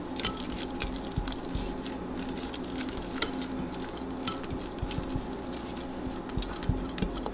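Spelt sourdough starter is stirred with a spatula, producing soft, irregular wet squishes and sticky patters at a low level, close by and without talk.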